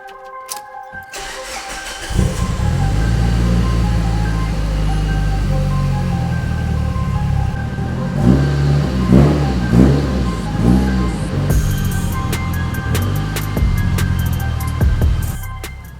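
Yellow Mitsubishi Evo 8 engine cranking and firing up, then settling into a loud close idle broken by a series of sharp throttle revs, no talk.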